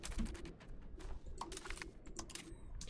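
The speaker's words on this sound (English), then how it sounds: "I need to not have clickety-clackety noises, preferably, because my mic is, like, right next to my keyboard." A computer keyboard sits right beside a microphone and gives quiet, rapid clicking. Irregular keystrokes patter close by, with no talking.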